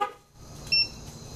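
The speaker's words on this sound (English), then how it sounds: "Horn beeps, lights flash, doors lock." A single short horn chirp from the Omega AL1855 remote alarm arming on a 2015 Jeep Wrangler sounds fairly close over a quiet outdoor background.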